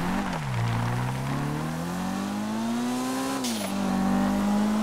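In GTA 5, a car engine revs steadily as it drives, its pitch climbing gradually and then dropping sharply before settling again. The engine sound is loud, close and continuous, with no voices over it.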